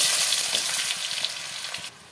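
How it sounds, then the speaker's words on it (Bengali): Potatoes frying in hot oil after a batch of fish roe fritters, a steady close sizzle and bubbling that drops away near the end, with no voices. "এই তেলে আলুটা ভেজে তুলে নেব।"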